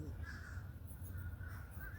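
Crows cawing outdoors, a flock of about fifty flying around overhead; several repeated harsh caws at moderate distance over a low background rumble, with no speech.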